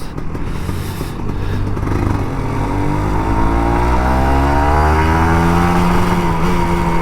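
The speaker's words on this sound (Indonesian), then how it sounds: "nikmatin ngegas." An old Kawasaki Ninja RR 150 motorcycle engine revs up loudly in Jakarta, its pitch climbing steadily as it accelerates close by, the throttle held open for several seconds.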